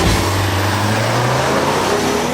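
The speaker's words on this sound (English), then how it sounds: "The Audi just takes off much better." 2018 Audi Q7 with a 2.0L turbo engine accelerating hard in a drag race, a loud steady engine drone rising in pitch as it pulls away.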